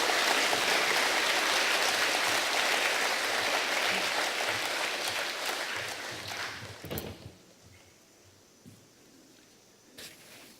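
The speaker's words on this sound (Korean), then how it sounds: "다 함께 힘찬 박수로 환영하시기 바랍니다" An audience in a church lecture hall breaks into dense, sustained applause to welcome an elder to the front. It holds steady for several seconds, then thins and fades out, with a few scattered claps and small thumps after.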